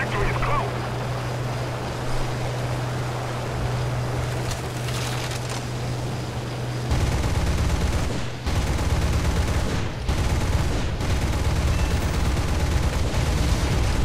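Bf 110 guns firing in War Thunder, a heavy continuous rattle under a droning aircraft engine, with a louder sustained burst in the second half.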